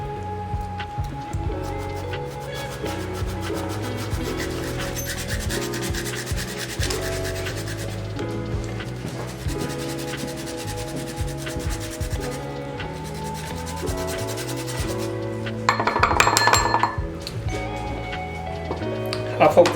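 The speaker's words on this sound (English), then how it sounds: "The first step is to get zest" Limes are rubbed against a zester, three of them worked for a salmon and cauliflower steak dish, giving repeated scraping, rasping strokes under music.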